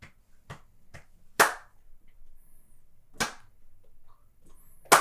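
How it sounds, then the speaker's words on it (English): Sharp electronic clap hits in an EDM track being built, a handful of isolated crisp snaps spaced irregularly over near silence, with a couple of louder accented ones. "So then claps on 3."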